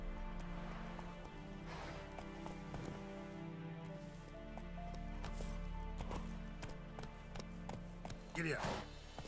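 Horse hooves clip-clop at a steady galloping rhythm in The Witcher video game, layered over continuous game music and ambience, with a brief louder burst near the end.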